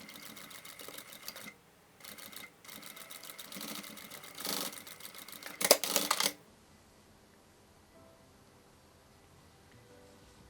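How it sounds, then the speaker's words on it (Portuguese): A sewing machine stitching fabric for a hobo bag runs in several short bursts of fast mechanical whirring, close and fairly quiet, with a louder spurt just before it stops and the room falls still. "Com isso eu vou passar uma costura aqui com o pé de máquina."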